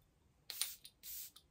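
A perfume bottle atomizer from Maison Matine sprays in a quiet room: three or four short, hissing bursts, one noticeably longer, clean and close with near silence between them.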